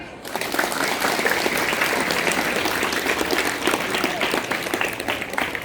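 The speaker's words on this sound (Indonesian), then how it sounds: "Tepuk tangan" Junior high students gathered at a school orientation session break into loud, sustained applause, a thick crowd of clapping hands with some voices underneath, steady from start to finish.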